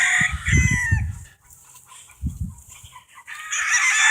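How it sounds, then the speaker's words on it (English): Several white hens and roosters cluck and squawk nearby in short bursts, with a rooster call and brief quiet gaps between the flurries of fowl noise. "There's some white chickens, white hens, them roosters, bro."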